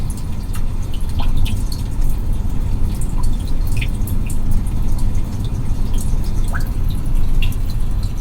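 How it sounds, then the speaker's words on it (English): Rainy day nature sound played through the Harman Kardon 10-speaker system of a 2021 Kia Telluride: steady, continuous rain hiss scattered with irregular drips and light patters at close range, alone without any voices. "Rainy Day."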